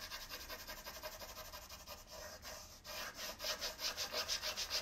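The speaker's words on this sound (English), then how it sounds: "So I'm just going to continue here with rubbing the piece." A Prima furniture transfer rubbed by hand onto a wooden tabletop, giving a steady, close scratchy rubbing in quick repeated strokes that gets louder and more rhythmic toward the end.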